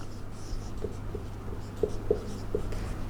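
A pen or marker writing out a quadratic equation for a class 10 maths lesson: soft scratchy strokes with a few sharper taps, close and quiet over a steady low hum.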